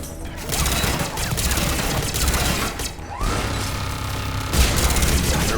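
Sustained assault rifle fire in Mass Effect Legendary Edition combat, dense rapid bursts with brief pauses and a mechanical swoosh, loud and continuous throughout with game effects layered in.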